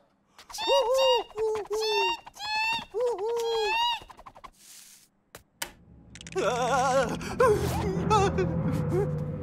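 A voice imitates a bird call, a series of repeated warbling whistles in several bursts, followed by a rising, tremulous squawking cry over background noise.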